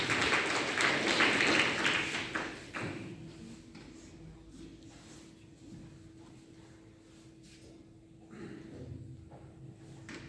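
Audience applause in an auditorium at the opening of a teacher-training session, a loud burst of clapping for the first few seconds that fades to low room noise, then a softer rise near the end.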